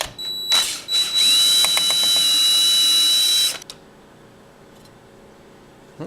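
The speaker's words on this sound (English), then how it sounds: "So then I can take my drill" A power drill on its lowest torque setting whirs steadily for a few seconds, then cuts off, followed by quiet room tone with a faint click.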